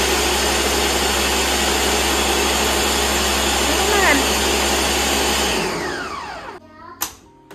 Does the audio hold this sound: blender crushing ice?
yes